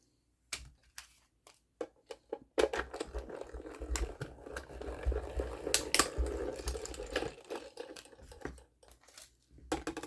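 A mini die-cutting machine cuts out paper for a crafting project, giving a run of clicking, clattering mechanical rattles up close, starting in short bursts and then grinding along continuously before tapering off.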